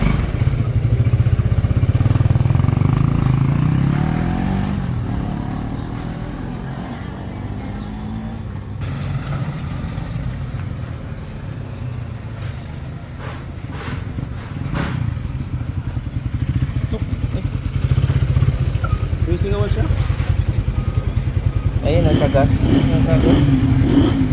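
A motorcycle engine runs steadily, rising and falling as it's revved, with clattering mechanical noise and people talking over it.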